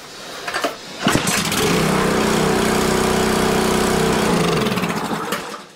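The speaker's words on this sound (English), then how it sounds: "So let's give it a pull and see if it starts." A Westinghouse pressure washer's small gas engine catches after a yank of the pull cord, sputtering briefly before settling into a loud, steady close-up idle that runs for several seconds and then cuts off.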